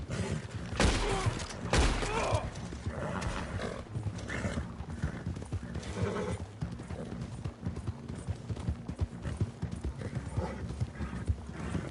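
Horse hooves gallop hard and fast in a steady pounding rhythm, close and loud throughout, with scattered thuds and movement around them, in Red Dead Redemption 2 Online.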